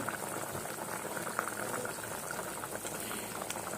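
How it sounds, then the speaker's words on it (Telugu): Fish curry boils in a pot, a steady, dense bubbling and hiss that stays even and close throughout, with no voices. "ఇదిగండి ఉడుకుతుంది చేపల కూర"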